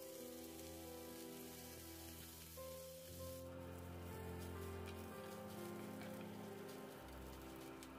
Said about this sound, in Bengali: আমি এখানে আলু চোখার জন্য পেঁয়াজ আর লঙ্কাটা একটু ভেজে নেব